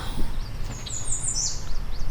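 A Philippine hanging parrot (kulasisi) gives a few high, thin chirping calls, close by, over low background rumble and noise.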